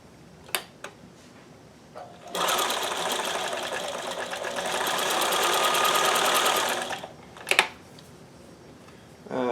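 A sewing machine runs a narrow standard zigzag stitch on knit fabric in one steady, close whirring burst of about five seconds, framed by a few sharp clicks before and after.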